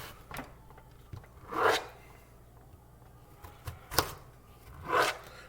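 A big kitchen knife cutting through food on a board, making a few separate crunchy slicing strokes at irregular intervals, close and fairly quiet with no talking.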